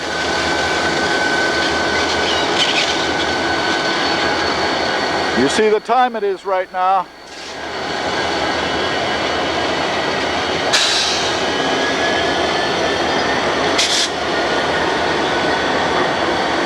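Continuous rumble and rolling clatter of CN and Norfolk Southern freight locomotives moving nearby on the Buffalo Line, with a brief spoken remark in the middle and faint screech-like accents later.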